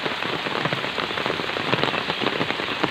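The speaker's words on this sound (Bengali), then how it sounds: "প্রচণ্ড বৃষ্টি হয়েছে, একদম জমিটার মধ্যে পানি বেঁধে গিয়েছে।" Heavy rain pours steadily onto a waterlogged field in Jhenaidah, a dense, continuous hiss of drops striking pooled water, close and loud throughout with no voices.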